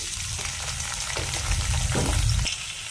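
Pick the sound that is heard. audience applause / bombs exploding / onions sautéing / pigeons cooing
onions sautéing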